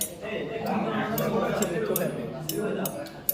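Cutlery and dishes clink at Mitra Cafe in New Digha, with several bright metallic taps spread across a murmur of indoor voices and café background noise.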